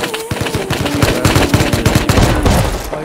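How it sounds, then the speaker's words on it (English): Rapid shotgun blasts in the video game Rust, a loud, close burst of evenly spaced shots rattling off in quick succession for a couple of seconds, with almost no talk. "I killed him with the shotgun"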